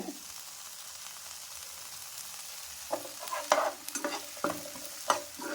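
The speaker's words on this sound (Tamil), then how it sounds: "இந்த குடமிளகா இதையும் வறுத்து எடுத்து வச்சுக்கலாங்க." Capsicum (bell pepper) fries in a pan with a quiet steady sizzle, then a spoon stirs it in a series of close scraping, clattering strokes over the continuing hiss.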